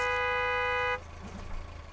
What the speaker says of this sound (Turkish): Korna basıyorlar bak.